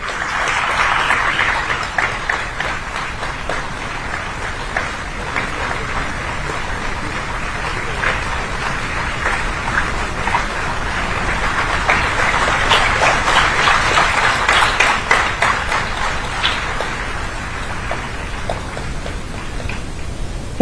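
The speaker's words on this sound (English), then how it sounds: "Let's keep the applause going." An audience at the inaugural ceremony of an international higher education fair keeps up steady, dense applause for about twenty seconds, a continuous rain-like wash of clapping that swells slightly in the middle.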